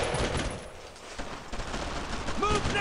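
Dense gunfire from the WWII shooter Brothers in Arms: Road to Hill 30, with rapid overlapping shots and bursts running throughout at fairly constant loudness, and a voice speaking beneath the battle.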